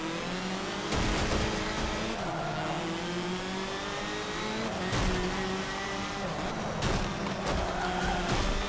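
Formula Ford race cars racing in Forza Motorsport 7. Several engines whine and rev together, with tyres squealing and sharp surges as cars accelerate and pass close by, the noise staying loud and continuous.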